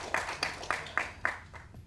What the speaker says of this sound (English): round of applause to Suren for being our inspiration